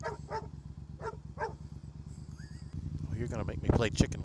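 Dog barking in short bursts near a moving motorcycle, the yaps spaced out over steady engine drone, with the rider's voice joining in and louder engine and wind noise toward the end.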